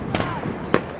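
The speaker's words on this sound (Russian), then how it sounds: "крутяк, салют." Fireworks over Moscow's Northern Administrative District go off as two dull booms about half a second apart, heard from a distance through crowd murmur.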